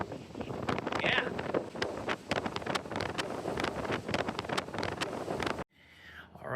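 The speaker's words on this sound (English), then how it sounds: "It's a beautiful day, I guess, except it's windy and crappy." Steady wind buffeting the microphone, a loud broadband rush with gusty pulses, cutting off abruptly near the end.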